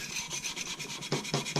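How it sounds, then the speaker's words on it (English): A wire brush scrubbing the sending unit from a Nissan 240SX gas tank gives rapid rhythmic scratchy strokes, close and steady, growing harsher toward the end, with no talk. "this wire brush seems to be working good"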